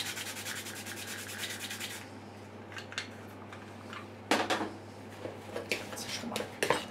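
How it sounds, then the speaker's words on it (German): Rubbing, rasping grating while freshly ground pepper goes over a vegan broccoli patty mixture in a kitchen, starting as a steady dense scrape, then breaking into short separate scrapes and clinks, close by with a constant low hum underneath. "Ich reibe."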